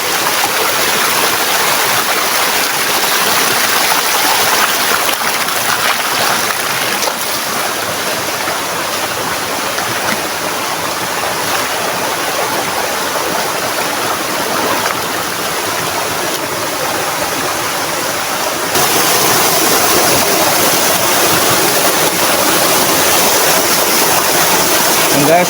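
Steady broadband rush of Anyap Falls, a waterfall in a Tanay nature park, roaring continuously at close range with no break, slightly louder toward the end.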